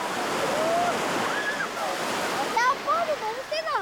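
Surf breaks and rushes at a beach in a steady, loud wash of noise, with children's shouts and whistle-like cries rising over the water.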